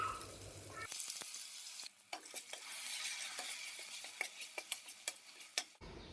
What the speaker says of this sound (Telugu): పేస్ట్ చేసి పట్టుకున్న మిశ్రమాన్ని ఆయిల్లో వేసి చక్కగా వేగనివ్వాలి